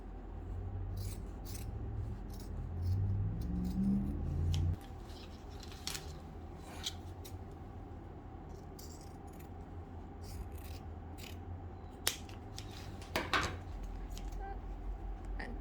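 Scissors snipping through the pinned fabric of a long formal dress being taken in: faint, close, irregular cuts and scrapes over a quiet room hum, with a louder rustle of handling early on.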